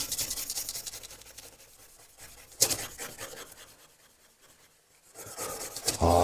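A saw blade is scrubbed clean with a gritty abrasive pad, giving close, rasping back-and-forth strokes in bursts, with a louder scrape near the middle and a quiet pause before the strokes pick up again.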